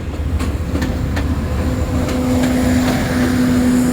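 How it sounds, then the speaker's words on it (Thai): A long passenger excursion train rolls steadily past nearby, a loud continuous rumble with faint rhythmic wheel clicks and a sustained mechanical hum throughout, with no voices. "กระบวนกำลังผ่านไป"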